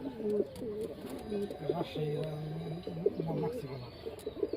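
Rajshahi Giribaz pigeons in a loft coo in repeated throaty, rolling phrases close by, several birds overlapping steadily, while a person talks faintly beneath them.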